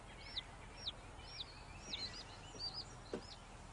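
A chick peeps in a cellar converted into a henhouse, six or seven short high chirps spaced about half a second apart over a faint hum, fairly quiet and close, no voices.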